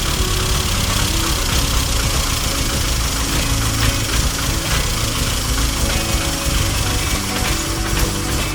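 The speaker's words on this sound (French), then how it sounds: "il y a des ratés là." A Mini car engine idles roughly with misfires, a loud, close, uneven rumble with irregular knocks and stumbles throughout, no talk.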